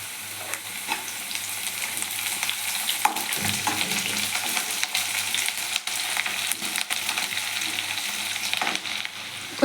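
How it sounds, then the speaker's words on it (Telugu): Onion pieces and green chilies fry in hot oil in a pan for chicken liver curry, a steady close sizzle with occasional stirring scrapes. "ఉల్లిపాయ ముక్క, పచ్చిమిర్చి వేగాక"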